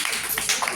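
Primary schoolchildren clap briefly for a classmate in a maths lesson, a short, fairly soft burst of mixed hand claps lasting under a second.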